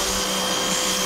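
A 180 bar pressure washer runs as a steady, loud motorised whine with a broad hiss of spraying water, continuous and close throughout.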